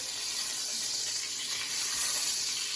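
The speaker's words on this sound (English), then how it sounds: "See that fat's really taking on a sear?" Ribeye steak fat searing in a hot pan gives a steady, close, bright sizzling hiss that holds level for a few seconds with no talk over it.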